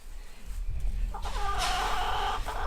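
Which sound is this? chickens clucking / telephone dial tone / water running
chickens clucking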